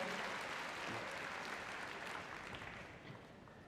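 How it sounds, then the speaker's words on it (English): Audience applause at a Crufts heelwork to music dog competition, a steady broadband clatter of many hands clapping in a large arena, fairly distant and tapering slightly toward the end. "Give a round of applause"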